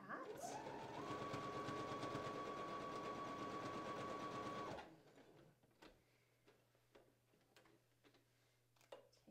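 A sewing machine stitches across a dress seam, a steady rapid rattling hum for several seconds that stops, then light clicks and handling noises follow while someone speaks.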